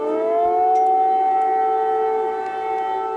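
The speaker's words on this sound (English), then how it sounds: "air raid sirens rang out" A steady air raid siren in Kyiv wails loudly and continuously, its tone rising slightly at the start and then holding a sustained drone.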